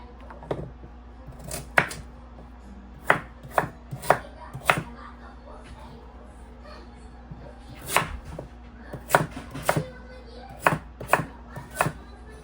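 A sharp knife chops garden vegetables on a board, crisp close knocks in short bursts with pauses between, over a faint steady hum.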